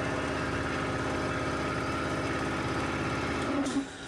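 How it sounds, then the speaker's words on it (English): An old air compressor in a workshop kicks in with a steady, loud mechanical running drone, close by, filling the space where a boat trailer brake caliper is being rebuilt. "that's all we need, the old compressor to kick in."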